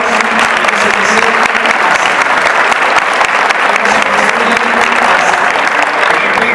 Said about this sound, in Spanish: pido de nuevo un aplauso por el ESEF